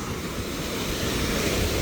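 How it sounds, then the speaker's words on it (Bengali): Sea waves break and wash continuously onto a beach in Portugal, a dense steady roar of surf with some wind buffeting the microphone, no voices. "এখানে বড় ঢেউ আসলে পানি অনেক কাছাকাছি চলে আসে"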